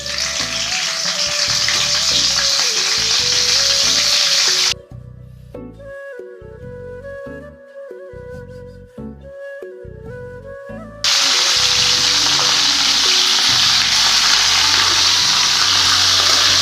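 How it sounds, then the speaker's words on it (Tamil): Cauliflower fries in hot oil in a pan with a loud, dense hiss and sizzle, dropping for several seconds to a quieter crackle with clinks and scraping before the full sizzle returns; no voices. "இப்போ இந்த காலிஃப்ளவர்லாம் சேர்த்து நல்லா இதை எண்ணெயிலே நல்லா வதக்கிடலாங்க."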